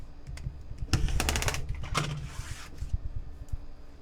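A cutter trims the edge of a scrappy disappearing nine patch quilt block in a few quick crunchy, scraping strokes, the loudest around the middle, with soft handling taps before and after.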